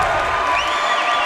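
A fired-up crowd at a high school district championship basketball game roars loudly and continuously in a short burst, with a commentator's voice mixed in.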